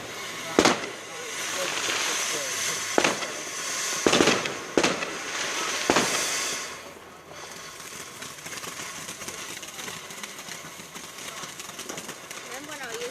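Fireworks on bonfire night: several sharp loud bangs spaced a second or two apart, then a quieter crackling stretch, with people talking throughout.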